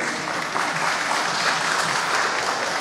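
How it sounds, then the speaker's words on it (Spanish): Guests and the mayor of Lima applaud at a Medal of Lima award ceremony, producing a continuous, even patter of clapping from a crowded room. "Aplauden los invitados, aplaude el alcalde de Lima."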